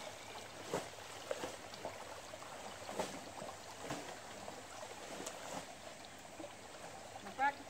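A guacal bowl scoops and pours river water while clothes are washed in El Salvador, with faint splashes and pours over a steady running stream and a voice talking now and then.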